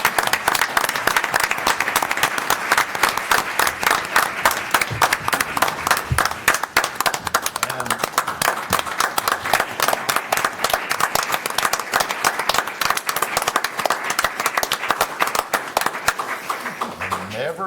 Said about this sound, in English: Now let's clap for him.